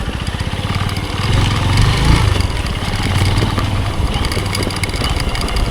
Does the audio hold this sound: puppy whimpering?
no